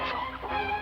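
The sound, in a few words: chickens clucking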